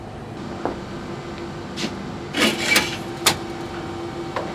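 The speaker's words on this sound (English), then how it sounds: "This machine combines mixing the samples with a reagent, which produces a colour, and measuring the intensity of the colour with a spectrophotometer." Laboratory analyser that mixes river water samples with reagent and reads colour with a spectrophotometer, humming steadily with a few short mechanical clicks and whirs, no talking.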